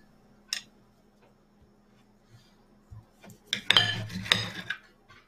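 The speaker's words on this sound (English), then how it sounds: "And that steak, I'm just gonna cut it in half really quick just to see what it looks like." A knife slices through a cooked steak on a plate, sharp metallic scrapes of cutlery against the dish building into a short burst of clinks near the end, close and fairly loud in a quiet kitchen.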